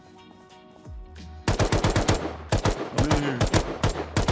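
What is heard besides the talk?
LMG machine gun fire in video game Rust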